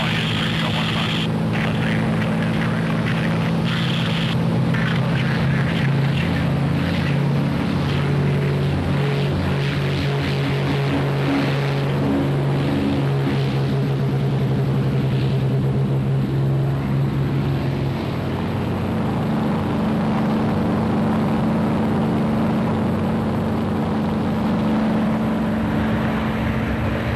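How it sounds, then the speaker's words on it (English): Piston engine drone from a P-51 Mustang flying in formation with another Mustang at an airshow, a steady loud propeller hum that stays heavy and constant throughout, with a slight pulsing beat between the engines. "What a gorgeous looking aircraft old Mad Max is."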